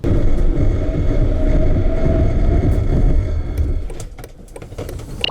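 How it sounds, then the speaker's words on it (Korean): A 2017 Mercedes-Benz Sprinter van on winter tyres brakes hard on a dry road during a brake test; a loud, steady roar of road and wind noise fades sharply after about four seconds as the van slows, leaving quieter scattered clicks. "이번에는 제동 성능도 한번 알아볼까요?"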